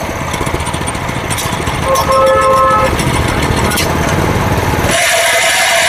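A 7 hp chain cultivator engine running in gear, a loud continuous chugging drone with a change in pitch and texture partway through, close up with brief tonal whines.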